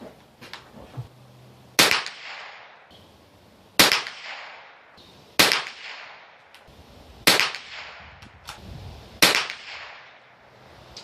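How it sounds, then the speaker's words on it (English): A Mossberg 802 Plinkster .22 rifle fires CCI Mini Mag rounds outdoors, five sharp, loud reports spaced about two seconds apart, each with a brief ringing decay and no talking. "So, Cci Mini Mags, we're going to be shooting these"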